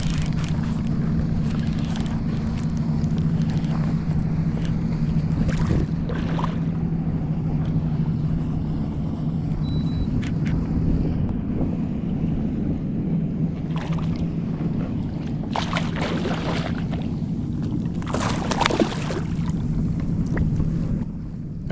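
A steady low boat engine drone runs throughout while fishing for fluke in 8 to 10 feet of water, with splashy water noise and occasional wind bursts over it.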